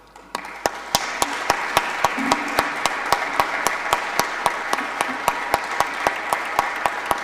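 Conference audience applauding a speaker after a talk on the Sahel, a steady run of sharp, regular claps that sounds like one or a few nearby clappers over a softer spread of applause, lasting several seconds.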